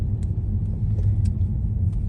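A car close by gives a heavy low rumble of engine and tires that stays loud and steady, with faint clicks over the top and no talk.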